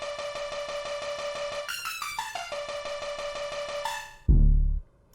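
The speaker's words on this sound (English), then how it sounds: "It was a delay effect that I used in a plugin called D-Blue Glitch" A synth melody run through the D-Blue Glitch delay effect, setting number 8, with its level automated so it rises, dips sharply and recovers, giving steady stuttering tones that break into a glitchy cascade and end on a loud low burst.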